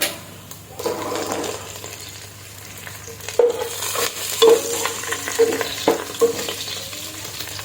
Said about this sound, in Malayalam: ഇതിലേക്ക് തീ ഓഫ് ചെയ്ത ശേഷം കറിവേപ്പില ചേർത്ത് കൊടുക്കാം